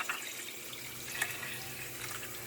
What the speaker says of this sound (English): what I'm going to do now is take a little bit of water and go ahead and add to it